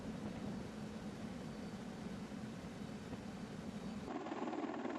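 A Sikorsky CH-53E Super Stallion heavy-lift Marine Corps transport helicopter gives off a steady, loud, close rotor and turbine roar that holds for the whole stretch, with a slight shift in tone near the end and no voices.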